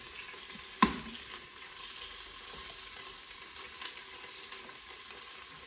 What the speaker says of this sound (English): we're just gonna let the meat cook until it starts to turn lightly browned on each side.